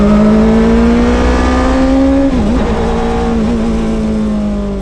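A 1973 Fiat Spider fitted with a Suzuki GSX-R motorcycle engine revs hard and steady, a loud, close high-pitched engine note holding near constant with a brief dip midway before climbing back.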